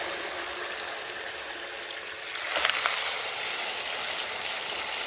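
Water runs steadily through a gold-prospecting sluice box, a broad even rush that swells slightly louder partway through, with no voices.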